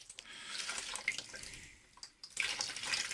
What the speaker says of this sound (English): Taking it under the running water now.